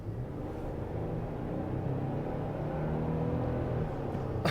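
A lifted third-generation Toyota Tundra pickup on 37-inch tires drives steadily with a low, even engine and road rumble heard from inside the cab, with the air conditioning turned down.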